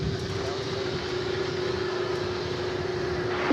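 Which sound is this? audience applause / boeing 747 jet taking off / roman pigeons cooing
boeing 747 jet taking off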